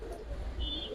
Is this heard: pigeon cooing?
yes